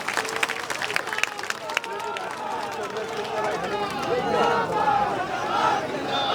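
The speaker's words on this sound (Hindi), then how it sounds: "एक बार जोरदार सत्तू भैया पर ताली बजा के स्वागत करा" A crowd at a political public meeting in Raipur greets a candidate with a short spell of scattered clapping that gives way to loud cheering and shouting voices swelling over the open-air throng.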